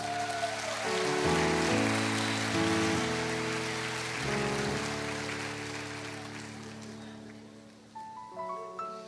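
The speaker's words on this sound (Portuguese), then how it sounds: "dê uma forte salva de palmas" A live church audience bursts into strong, sustained applause that swells and then tapers off, while music plays underneath.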